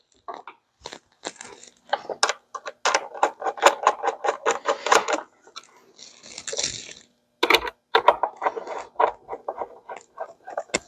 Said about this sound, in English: then you can install the lid and tighten the 3 screws